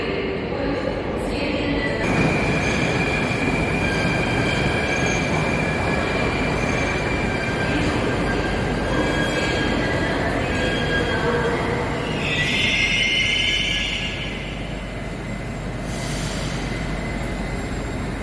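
A metro train at Smolenskaya station in Moscow rumbles steadily and close, with wheels squealing and metallic screeches rising over the continuous rolling roar for the whole stretch.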